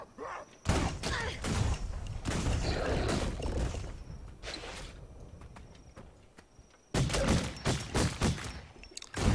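Gunfire from a gun in the video game Guild Wars 2, bursts of rapid sharp shots clustered in volleys with brief lulls between, close and loud.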